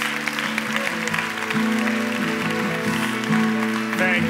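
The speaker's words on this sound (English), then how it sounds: "So please give a big round of applause to Ben Greenfield." Audience applause for a guest at a personal-growth stage event, a sustained, dense clapping wash that holds steady and swells slightly toward the end, with a tonal music bed underneath.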